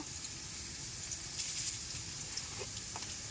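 A dried red chilli sizzles in hot oil in a home kitchen while vegetable dal is being cooked, giving a steady, soft, rain-like hiss that continues evenly throughout with no talking.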